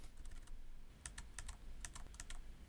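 Arrow keys on a computer keyboard tapped repeatedly, a quick irregular run of crisp plastic clicks, close and fairly loud over a quiet background.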